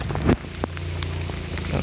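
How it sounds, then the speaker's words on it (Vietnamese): Heavy rain falls during a fishing trip, a constant close hiss and patter with a brief knock or thump near the start. "Không kịp quay trời mưa quá."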